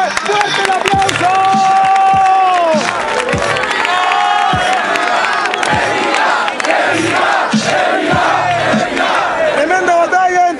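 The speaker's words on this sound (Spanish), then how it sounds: "¡Con fuerte! ¡Fuerte el aplauso!" At a freestyle rap battle event in Concepción, a large crowd roars, shouts and chants over scattered clapping. The noise is loud and sustained, with voices rising and falling throughout.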